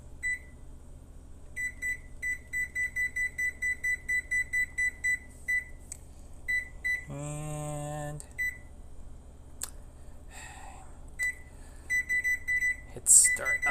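An oven's control panel beeps in short repeated bursts as timer buttons are pressed, followed by a longer tone and more quick chirps, clear and close in a quiet kitchen.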